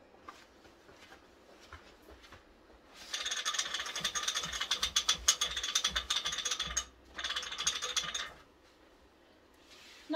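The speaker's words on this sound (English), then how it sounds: "I'm going to go to the other end of the frame where my roller, my side wheel sits, and I'm now going to roll the fabric up." A side wheel ratchet on a quilting frame clicks rapidly in two bursts as fabric is rolled onto the roller, with dense mechanical pawl clatter, close and fairly loud, and quieter handling noise around it.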